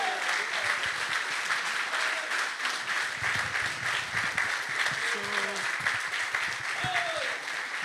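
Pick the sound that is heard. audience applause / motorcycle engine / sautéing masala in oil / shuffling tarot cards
audience applause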